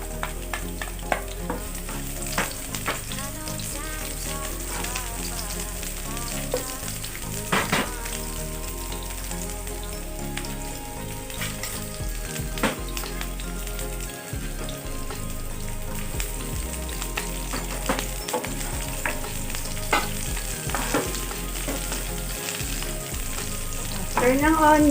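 Garlic and onions fry in hot oil for a chicken and ampalaya dish, a loud continuous sizzle broken by scraping and clattering as the pan is stirred.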